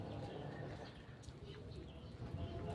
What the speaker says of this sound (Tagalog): So, ni-stress yung mga ibon dahil sa init, mga kalapatids.